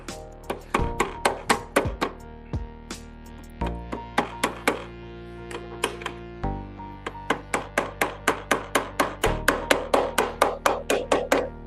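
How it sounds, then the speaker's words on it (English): A small hammer drives nails into little hinges during woodworking, dozens of sharp, close taps arriving in quick rhythmic bursts, with a few heavier ringing strikes between runs. "these little bitty baby hammers are amazing for stuff like this."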